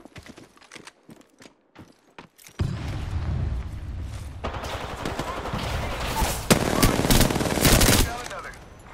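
Video game gunfire: a few spaced single shots give way to sustained, loud rapid automatic fire lasting several seconds, then tapering off.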